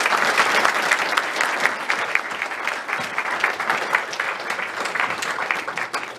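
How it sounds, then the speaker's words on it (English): Steady round of applause from an audience honoring young fire safety award recipients, many hands clapping evenly and continuously at a moderate, close level, no speech. "I'd like to join them in a round of applause for these young men."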